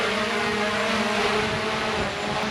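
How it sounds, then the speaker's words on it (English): A DJI Mavic Air 2 drone lifts off outdoors near trees and a flag, its propellers making a steady, close, high-pitched whine and buzz throughout with no talking. "Now watch the drone."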